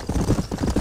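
Horse hooves clip-clop at an even trotting pace in Red Dead Redemption, close and fairly loud for a brief moment.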